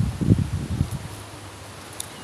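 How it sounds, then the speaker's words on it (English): Wind gusting through leaves in an African farming village, with a burst of low buffeting and rustle in the first second that eases into a quieter steady breeze. "It's very windy here"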